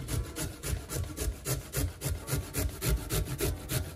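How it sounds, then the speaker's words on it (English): Sweet potato (yam) rubbed by hand against a grater for a Jamaican sweet potato pudding, a steady rhythmic rasping of about two strokes per second, close and loud with no talking. "Daddy's an expert on the grating"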